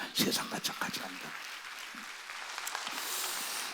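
Church congregation applauding during a Sunday worship service, a broad wash of clapping that swells and holds steady, heard faintly after a short burst of preaching at the start.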